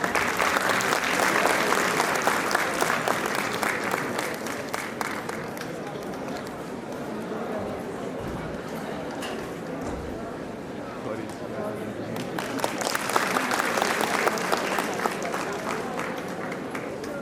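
A crowd at a college prize distribution and closing ceremony applauds a chief guest, long continuous clapping that dips briefly midway and swells again, with voices mixed in.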